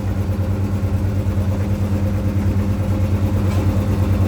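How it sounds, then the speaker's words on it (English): A Honda EU70iS generator runs steadily at a tyre shop, a loud, even low engine hum with a constant drone and no pauses throughout. "they have a generator here from Honda"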